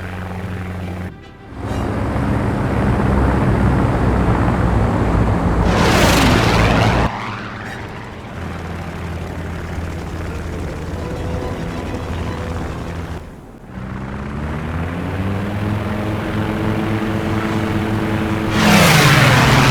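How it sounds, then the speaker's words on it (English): Propeller engines drone steadily as WWII fighter planes take off in War Thunder, a loud continuous buzz broken by short cuts, with pitch shifts and occasional whooshes as aircraft pass. "3 Wake Island airplanes were launched when the radar picked up approaching enemy planes."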